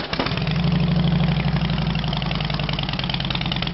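A Harley-Davidson Softail Deluxe with a true dual exhaust and no crossover pipe starts with a brief crank and catch, then settles into a loud, steady, loping idle close by.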